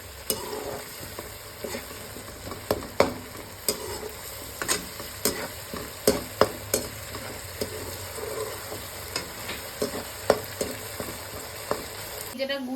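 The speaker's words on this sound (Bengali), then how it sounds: "এটাকে আমি পুরোপুরি দিয়ে দেবো, দিয়ে আমি এবার এটাকে কষাবো।" Ginger, garlic, green chillies and two or three dried chillies sizzle in a hot pan, with steady frying hiss broken by regular scraping knocks of a stirring spoon against the metal.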